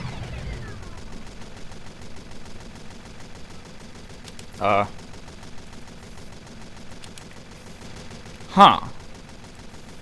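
Two isolated gunshots in the Team Fortress 2 style video game sound several seconds apart, each a short, sharp crack over a low steady background, with a brief murmur from a voice.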